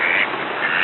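Mallard ducks call in one unbroken stretch of nasal, raspy quacking. It sounds near and fairly loud, with no voices over it.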